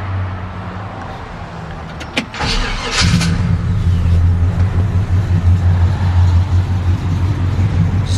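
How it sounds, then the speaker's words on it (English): A 1967 GMC C10 short box pickup with dual exhaust cranks over at close range and fires up, then settles into a steady, deep rumbling idle that carries on with no talk. "Dual exhaust gives it that really nice rumble."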